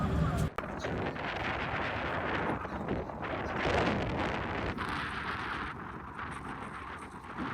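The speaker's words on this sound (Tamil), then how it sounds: "நல்ல காற்று வேறு அடித்து கொண்டிருக்குது" Strong wind blows steadily across the microphone at night beside the sea off Nainativu island on a full-moon evening, a loud continuous rushing roar with gusts, briefly cut near the start and easing slightly toward the end.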